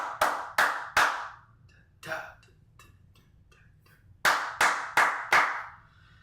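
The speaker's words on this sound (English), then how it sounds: "encourage them to do the hits with claps" Sharp hand claps hit on the beat for a worship song, three quick claps, a softer one after a pause, then four more in a row, each ringing briefly in a quiet room.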